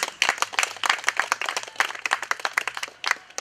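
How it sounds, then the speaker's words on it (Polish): Audience applause at a local commemorative gathering in Mińsk Mazowiecki, a ragged burst of hand claps with distinct individual slaps, fairly close and steady for a few seconds with no talk over it. "myślę, że zaocznie mogą mu się należeć brawa"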